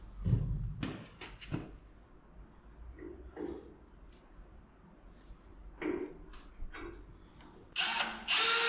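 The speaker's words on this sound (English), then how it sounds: "I'm gonna drill and try to tap them with 1/4-20, just stick some bolts in." A power drill boring holes to tap for 1/4-20 bolts while fitting custom bed mounts on a '59 Apache truck. Short whirring runs are followed by scattered knocks, then a louder sustained drilling burst near the end.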